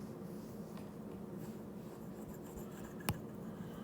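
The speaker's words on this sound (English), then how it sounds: "I'll write it down in a second." Faint scratching of writing on a board during a physics lesson, quiet strokes over room tone, punctuated by one sharper tap near the end.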